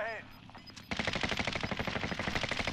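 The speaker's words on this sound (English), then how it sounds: "He's shooting me from the way right there, guys." Sustained rapid automatic gunfire rattles continuously in a Resurgence trios shooter match, loud and close, starting abruptly after a quieter stretch with game beeps.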